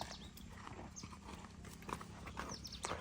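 Horse hooves clip-clop faintly along a wet, waterlogged road, a string of light, irregular knocks heard at a distance under a low background rumble, with no talk.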